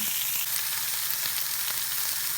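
Salt-and-peppered beef for ramen sears in a hot pan, giving a loud, steady, crackling sizzle that holds evenly throughout with no one speaking.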